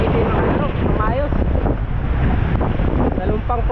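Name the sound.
waves hitting a boat at sea in wind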